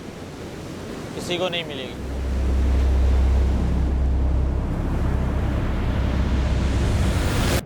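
Sea waves surge and wash in a loud, continuous roar with wind buffeting the microphone, while a person speaks briefly early on.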